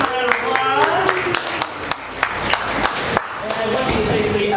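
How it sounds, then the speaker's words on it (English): An audience at a live comedy improv show gives a round of applause, scattered close hand claps heard over ongoing talk and voices in the room. "Give him a round of applause."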